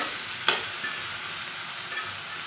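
Cooked sprouts go into a pan of fried onions and are stirred, giving a soft, steady frying hiss with one brief scrape of the spoon. The sound is quiet and close, with no voices.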